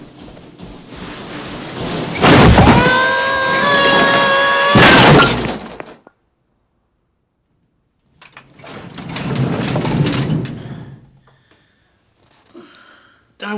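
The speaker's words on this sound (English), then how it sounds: "That was the sound of a tool chest falling down the stairs." A heavy tool chest tumbles down a flight of stairs in a house at Christmas, giving two loud crashing bursts with clanging metallic ring, a pause, then a further rumbling clatter and faint knocks.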